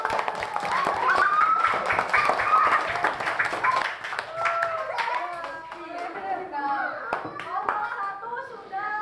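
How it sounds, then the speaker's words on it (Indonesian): A classroom of children claps together in a quick burst of sharp hand claps, which then fades into children and an adult talking. "Tepuk tangan."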